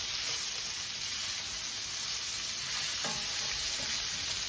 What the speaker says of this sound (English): We're going to brown the onions.